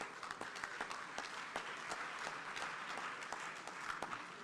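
An audience at an African conference applauds in welcome as a speaker is introduced, giving a sustained, even wash of many hands clapping, moderately distant, with scattered sharper claps throughout.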